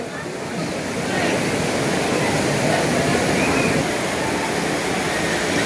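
Heavy downpour on Digha sea beach at dawn, a dense, loud and unbroken roar of rain that swells after the first second and holds steady throughout.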